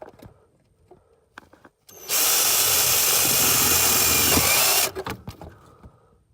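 A power drill bores a hole during manual pedal installation on a 240SX convertible drift build, a loud steady whine lasting about three seconds, bracketed by faint clicks and handling noises before and after.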